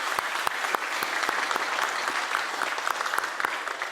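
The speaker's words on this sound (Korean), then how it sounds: "뜨겁게 박수로 한번 이들 부부를 환영하겠습니다" A church congregation at a Sunday daytime service applauds warmly, welcoming a couple with steady, dense clapping that fills the room throughout, with no voices over it.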